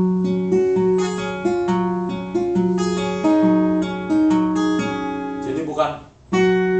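Fingerstyle acoustic guitar plays the intro to a song, plucking the fourth string in a steady, close, clear pattern of picked notes, with a short break near the end before the pattern resumes.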